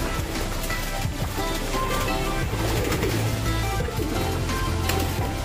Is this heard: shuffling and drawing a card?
no